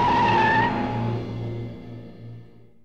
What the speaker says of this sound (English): He spun out of control and went crashing into a lamppost